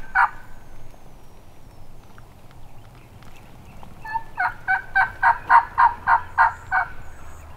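Wild turkeys in South Georgia hardwoods gobble in a rapid, rhythmic burst of about a dozen pulses, moderately distant over a quiet outdoor background, with one earlier call.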